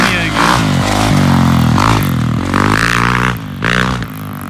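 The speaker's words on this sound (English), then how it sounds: "I never know what my bike actually sounds like because I'm always the one riding it." A motorcycle being ridden roars loud and close, its engine droning steadily with rising and falling revs, a few clattering bursts, and a brief dip in the middle.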